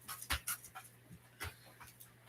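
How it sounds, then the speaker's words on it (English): A dog pants in short, quick breaths with a few soft whimpers and sniffs, close by in a quiet room. "I don't know why my dogs are barking."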